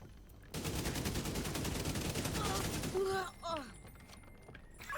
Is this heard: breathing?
no